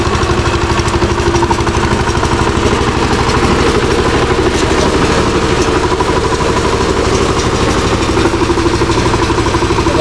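A tractor engine runs steadily at paddy planting in a Konkan field, a loud continuous low throbbing drone with even rhythm throughout, close by and alone without voices.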